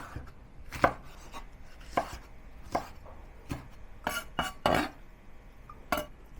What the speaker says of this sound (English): Bell pepper also into small pieces, but I don't have the red one today, so instead I will substitute it with 2 large red chili.